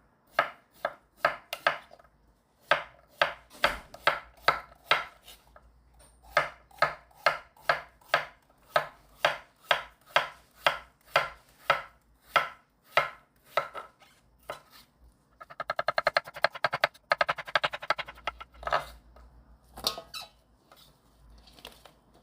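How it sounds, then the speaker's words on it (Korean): Old cucumber (nogak) sliced with a knife on a board: a long run of crisp, evenly spaced chopping strokes, close and clear, with a brief burst of rapid squeaky cuts near the end before the slow rhythm resumes. "얇지도 않게 노각을 썰어줍니다."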